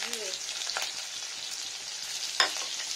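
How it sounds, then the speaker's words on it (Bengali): Chopped cumin dropped into hot oil in a pan gives a steady soft sizzle with light stirring scrapes and a short sharper crackle burst near the end. "এটার মধ্যে তেল তো রয়েছে হয়তো, এটার মধ্যে আমি দিয়ে নেব কিছুটা জিরে কুচানো"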